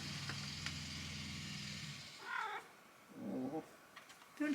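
A cat purring and making soft vocal calls inside a camper van during a DIY build, a steady close purr for about two seconds, then a few brief chirps and mews.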